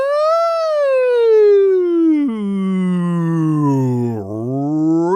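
A single voice imitates a siren as a vocal warmup, sliding smoothly down from a high tone, breaking at one point, then dipping and rising again in one continuous wail. The voice is loud and close, with no words spoken.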